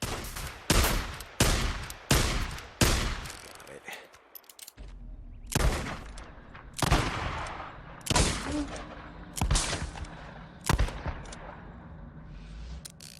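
The Mare, a shotgun revolver firing shotgun shells in the game Days Gone: about ten heavy, booming blasts, a quick volley first, then after a short pause slower single shots at steady intervals, each trailing off.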